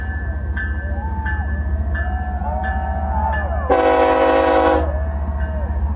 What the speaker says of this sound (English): This is him arriving in his choo-choo train